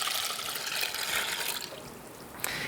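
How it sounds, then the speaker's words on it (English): Water pours into a bowl of dry macaroni for microwave mac and cheese, a close, continuous splashing trickle that eases slightly near the end. "Then we can add our water."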